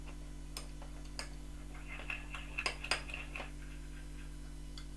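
A spoon clinks against a glass while stirring a honey drink: quiet, irregular taps over a steady low electrical hum.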